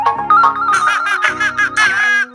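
Phone ringtone in the game Toca Life World, a bright, loud electronic melody of rapid tonal notes playing continuously for a couple of seconds, with no talking over it.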